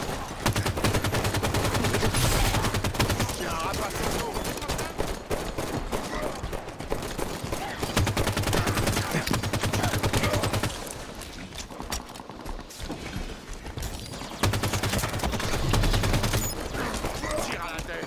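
Rapid bursts of automatic gunfire in Halo 5 Guardians multiplayer, loud and close, with brief pauses between volleys and occasional voices underneath.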